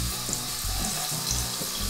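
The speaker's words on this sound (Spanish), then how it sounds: "Y aclara bien con agua fresca." Fresh tap water runs in a steady, close rush over cauliflower florets being rinsed, with a faint rhythmic splashing and no speech.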